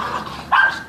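Pet dogs give a single short bark from close by at home, sharp and loud after a faint background yelp.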